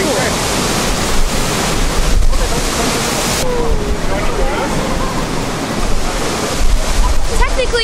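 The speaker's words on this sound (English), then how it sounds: "To the waterfall, it's so loud, as you guys can probably hear." A loud waterfall roars as dense, constant broadband rush close by, with wind buffeting the microphone and a voice talking briefly over the noise.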